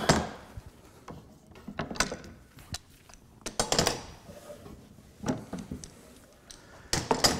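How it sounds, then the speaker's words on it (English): Wooden clamps are loosened and lifted off a freshly glued maple slab coffee table base, giving a run of close, irregular knocks, clacks and scraping handling noises with brief quiet gaps between bursts. "Just go ahead and remove these clamps."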